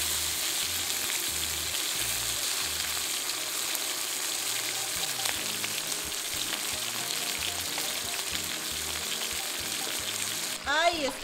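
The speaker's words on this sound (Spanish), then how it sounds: "Ahora el churrasquito vamos a freír aquí." Churrasco steak frying in a pan, a steady dense sizzle running throughout with a brief louder burst near the end.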